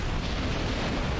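A sustained fiery burst roars in Dark Souls, a dense, loud, unbroken whoosh of flame with no pauses across the short moment.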